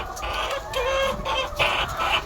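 Several chickens cluck close by in short, repeated bursts around a drinking point, with a rooster-like call rising now and then over a steady farmyard background.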